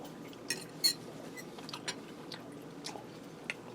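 Someone chewing a bite of air-fried sweet Italian sausage, close soft mouth sounds and a few sharper crisp bites over a low room background, with light cutlery clinks and no talking.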